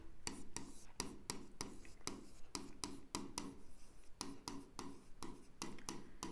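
A pen writing quickly on paper, working through an accounting exercise, makes a steady run of close, crisp scratching strokes in a regular rhythm with brief pauses, and no one talks.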